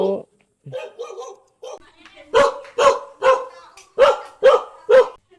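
A few soft yips, then a dog barks loudly six times in a steady rhythm, each bark sharp and close.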